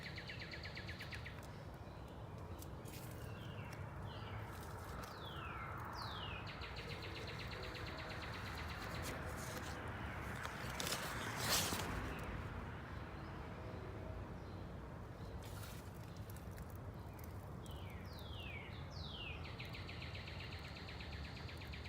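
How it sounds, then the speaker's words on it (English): Birds chirping in a leafy backyard, with repeated quick sweeping tweets and calls from several birds at varied distances over a constant hiss of insects and outdoor ambience, no talking. "Lots of happy chirping birds."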